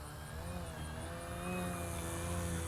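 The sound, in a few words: radio-controlled model airplane motor throttling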